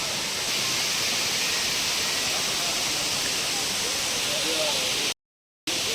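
Steady roaring rush of falling water, broad and constant like a nearby waterfall, with a brief dropout near the end, at Kiliyur Falls in Yercaud.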